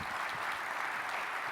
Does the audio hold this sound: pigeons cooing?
no